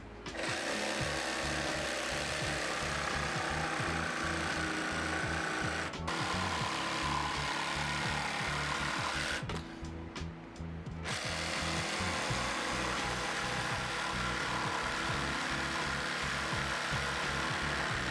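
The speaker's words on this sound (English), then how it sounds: "I ended up tracing it out and then roughly cut it out with a jigsaw" Jigsaw roughly cutting out a traced wooden shape for a plant table end, a continuous buzzing, rattling motor drone at close range with two brief pauses partway through, no voices.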